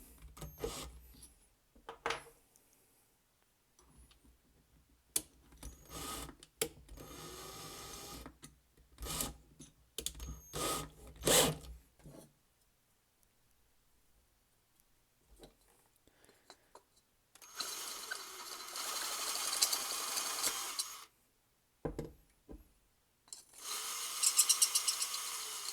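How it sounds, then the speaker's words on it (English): A larger drill bit bores out the inside of a broken golf driver head in several loud, grinding bursts of a few seconds each, separated by quiet pauses. "We'll go up a little bit bigger on our drill bit."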